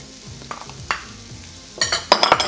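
Sliced peppers, snap peas and grated carrots stir-frying in a pan over medium heat, a steady sizzle under scraping and stirring that grows louder toward the end.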